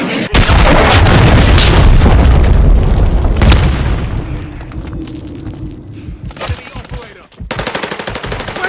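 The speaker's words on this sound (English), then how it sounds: "Friendly cruise missile deployed." Heavy explosions from a cruise missile strike in Call of Duty Modern Warfare 3 roar loudly for several seconds, fade into a rumbling tail, then give way to sharp bursts of distant gunfire.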